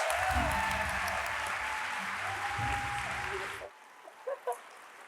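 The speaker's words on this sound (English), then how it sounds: "We always welcome another round of applause." Audience applause at an award ceremony honoring a 2026 HBA STAR Award recipient, a dense sustained round of clapping for about three and a half seconds that stops abruptly, followed by near quiet with a couple of faint knocks.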